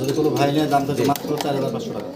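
Fancy pigeons cooing up close, low throaty coos repeating through a short stretch, with someone talking over them.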